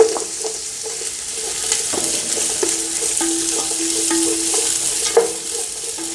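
Carrots and capsicum stir-fried for chicken fried rice, a loud continuous sizzle with repeated sharp scrapes and clacks of a spatula against the pan at an uneven rhythm, no voices.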